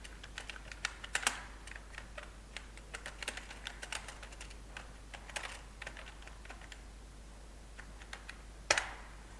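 Quiet, close-up typing on a computer keyboard, irregular runs of light key clicks with brief pauses and a sharper tap near the end, no speech.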